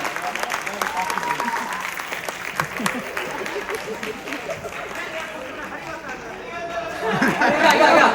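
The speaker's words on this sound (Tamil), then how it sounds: "மீண்டும் ஒரு பலத்த கரகோஷங்கள்." A crowd at a Tamil New Year dance show in Tokyo breaks into applause, clapping and lively chatter blending together, with a voice speaking over it and the noise swelling louder near the end.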